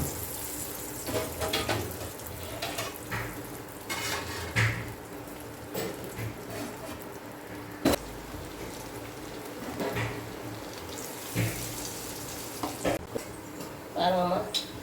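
Banana flower vadai frying in hot oil in a kadai, a steady close sizzle with bubbling and occasional spoon scrapes, a few louder bursts scattered through and faint voices in the background.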